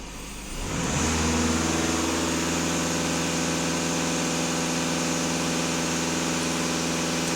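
A VW Passat 2.0 TDI diesel engine, with a clogged particulate filter regenerating, surges from idle to full throttle within a second and then holds a loud, steady high-rev drone with strong harmonic hum.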